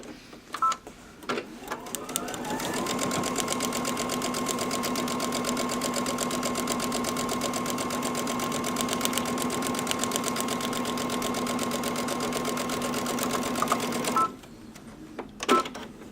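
A sewing machine stitching a paper-pieced quilt block runs in one steady, even whir for about twelve seconds, close by, with brief handling clicks before and after.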